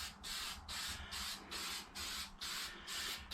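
Short bursts of spray paint hiss onto an RC car body in light coats, about seven rhythmic close-up sprays with brief pauses between them.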